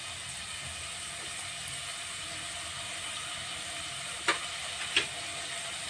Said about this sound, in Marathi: त्यामध्ये आपण आलं लसूणची पेस्ट टाकूया.